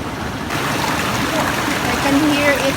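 Ocean waves break and churn among rocks at Malingin Rocks in Liloan, Cebu, making a continuous loud rushing wash heard from nearby.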